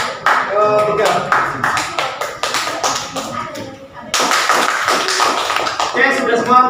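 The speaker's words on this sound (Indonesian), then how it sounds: "Tepuk tangan untuk kelompok" An audience claps for group 3 at a classroom presentation, a loose patter of hand claps that thins briefly in the middle and then swells again, with voices mixed in.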